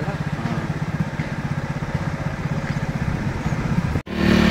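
A vehicle engine labours up a steep hill road, with a steady, rough, pulsing drone close by that cuts out abruptly near the end before a brief rumble resumes.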